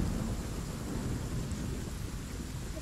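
Steady rain with a low thunder rumble, a continuous dense wash of noise at moderate level with no voices.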